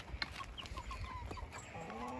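Chickens cluck in short, scattered calls at close range on a farm, with soft background noise and no talking.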